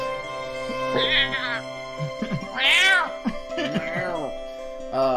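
A person imitates a cat with a series of drawn-out, whiny meows, loud and close, rising and falling in pitch.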